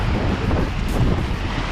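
Sea waves wash onto a Dubai beach, a loud, continuous rushing roar mixed with buffeting wind noise on the microphone, with no voices.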